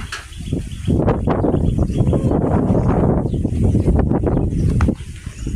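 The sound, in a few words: strong wind blowing outdoors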